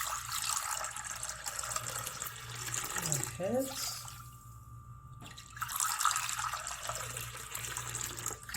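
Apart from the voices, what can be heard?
water being poured while making basbousa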